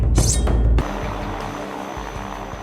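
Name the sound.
airplane engine in Red Steel Wii video game cutscene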